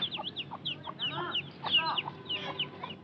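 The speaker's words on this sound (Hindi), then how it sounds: "ओरिजिनल ये है असील ब्रीड।" Aseel breed chickens clucking nearby, a dense run of short repeated clucks and squawks over a low farmyard background hum.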